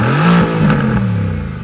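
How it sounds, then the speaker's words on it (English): A parked Mercedes-AMG GLC63 S with a twin-turbo V8 revs once close up, a loud deep engine growl that swells and settles back to a burbling idle. "But then you can't rev it all the way to redline when you're parked"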